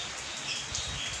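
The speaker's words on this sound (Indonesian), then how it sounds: "Maaf ini agak berisik ya. Karena hujan." Steady rain hiss filling the background, broad and continuous, with faint bird sounds mixed in.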